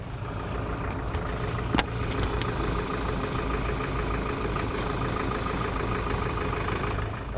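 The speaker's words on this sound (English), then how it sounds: "That's what the 2-litre bi-turbo sounds like." A Ford Everest's 2-litre four-cylinder bi-turbo diesel idles with a steady low rumble and faint mechanical clatter, close and continuous, with one brief sharp click early on and no talk.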